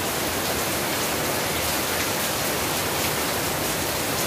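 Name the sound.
rain falling on a flooded road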